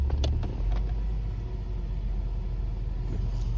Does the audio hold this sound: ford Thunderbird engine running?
yes